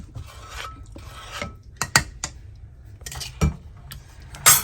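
A utensil scrapes and stirs through black beans in a frying pan in uneven bursts, with a few sharper clacks against the metal and a low hum beneath. No one speaks.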